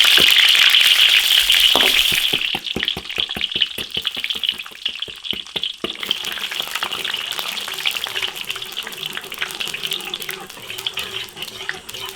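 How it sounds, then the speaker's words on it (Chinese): Sugar caramelizing in oil in a large iron wok, a loud hiss at first giving way to a dense, crackling bubbling and spattering that continues steadily. "炒到糖色冒泡，冒小泡。"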